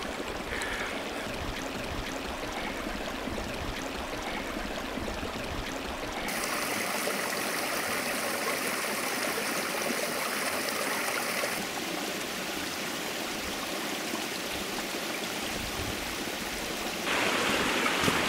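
Water pours steadily from a chute at a spillway on the Volga, a broad continuous rushing stream that grows fuller midway, heard alone without voices.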